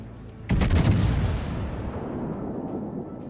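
Bismarck battleship main guns fire a broadside in the naval game World of Warships, a loud, deep booming blast that erupts suddenly and rolls away into a long, fading rumble.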